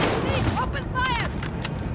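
Gunfire in the Modern Warfare video game, loud bursts blending with constant game noise while someone talks over it.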